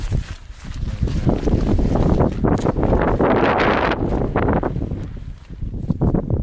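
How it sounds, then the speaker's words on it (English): Strong, steady wind roars and buffets against a one-person tent's fabric, a dense rushing noise with flapping gusts swelling and easing throughout. "You can hear it's very windy"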